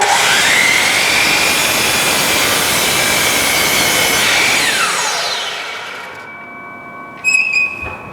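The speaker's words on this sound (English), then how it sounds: "I need to make sure and trim off the end to square up the board." A power saw trims the end of a wooden board to square it up: a loud, steady whining roar that winds down over the last few seconds, followed by a brief clatter.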